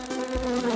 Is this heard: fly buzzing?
yes